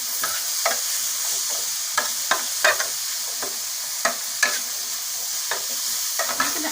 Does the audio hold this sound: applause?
no